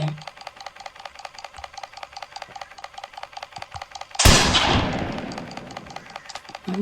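A shotgun fires once in the horror video game Granny 4 The Rebellion. The single sharp blast has a decaying tail and cuts through a steady, fast clicking pattern that runs throughout.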